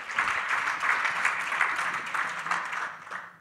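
Audience applause at a German forestry and hunting conference, welcoming a speaker from the Forest Research Institute Freiburg; a steady wash of many hands clapping that holds evenly and then thins slightly at the end.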